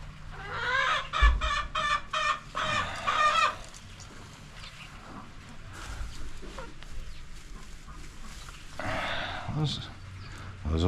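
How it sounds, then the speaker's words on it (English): Farm chickens and a rooster cluck in short bursts near the start and again toward the end, with speech and general farmyard noise running throughout. "That looks like a chicken though."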